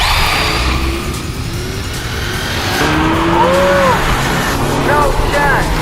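A car accelerating to 80 km/h beside a fast RC car, with a steady loud engine roar and rising whines from the motors, under continuous talk.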